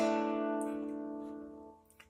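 A single chord strummed on a dulcimer, with the bass string and melody strings ringing together in one bright attack that fades slowly over about two seconds, heard alone.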